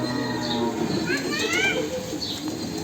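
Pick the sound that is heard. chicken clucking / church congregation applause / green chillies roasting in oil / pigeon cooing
pigeon cooing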